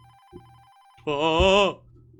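A telephone rings in the video game Don't Chat With Strangers: one loud warbling electronic ring burst over a quiet looping game tone and low background hum, with no talking.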